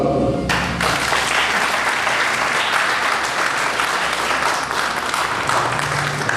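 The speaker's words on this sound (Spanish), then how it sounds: "Por lo cual invito al público el reconocimiento respectivo, brindándole un aplauso." An audience at a lecture on crimes against public administration breaks into sustained applause, a dense, even wash of many hands clapping that stays loud and steady throughout, with no speech over it.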